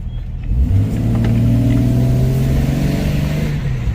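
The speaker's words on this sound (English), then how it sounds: "I am glad it has just a little bit of a rumbly sound to it now." A car engine without exhaust modification rumbles and climbs as it accelerates, a low steady drone rising in pitch, close and loud, continuing alone with no talking.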